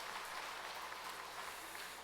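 A church congregation applauds their pastor after a Sunday afternoon worship service, a steady, dense wash of clapping that stays even and close for a couple of seconds with no voices over it.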